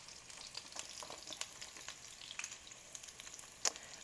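Banana slices fry in a pan for pancakes, starting to caramelize. A faint, steady sizzle runs throughout, with a few soft pops and one sharper crackle near the end.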